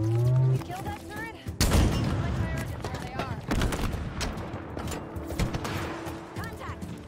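Sustained gunfire in the Halo Infinite video game, dense bursts of rapid shots and heavy booms piling on one another over several seconds, with voices of squad chatter mixed in underneath.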